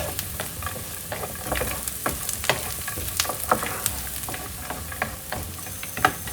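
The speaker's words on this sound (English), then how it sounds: "I'm going to put the hazelnut and the almonds and fry that in the onions" Hazelnuts and almonds fry with onions in a pan, a busy crackling sizzle with frequent spoon scrapes and light taps, close and steady throughout, no talking.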